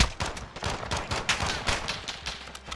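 Rapid bursts of gunfire from a shooter video game, sharp repeated shots in quick irregular volleys, loud and close, with a faint voice underneath.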